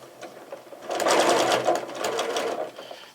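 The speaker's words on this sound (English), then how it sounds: "So I'm just going to stitch down until I get there." Sewing machine stitching fabric toward a corner: a close, steady motor whir with rapid needle rattle, starting after a short pause, running about two seconds, then slowing.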